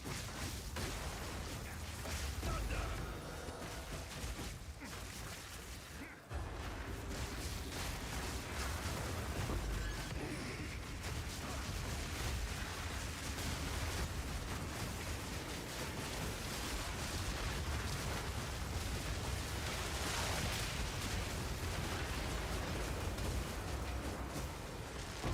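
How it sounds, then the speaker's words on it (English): Repeated explosions going off in a video game, a dense, loud, continuous roar of blasts and bursts with one brief drop-out partway through, no talking. "some of those explosions, when they go off, they just freaking chunk"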